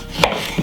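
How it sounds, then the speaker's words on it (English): A knife chops through fresh ginger on a cutting board, a single sharp close chop with no voices. "we're gonna cut up a few pieces of ginger"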